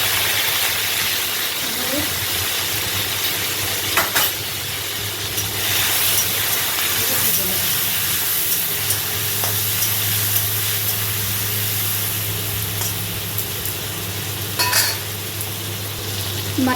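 Prawns frying in a very hot pan give a steady, loud sizzle and hiss, with occasional sharp clatters of utensils and a low hum from the kitchen.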